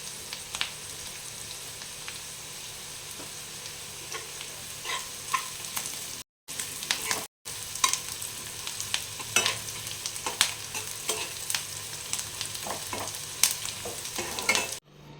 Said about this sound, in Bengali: একটু ভালো করে লাল করে ভেজে নিতে হবে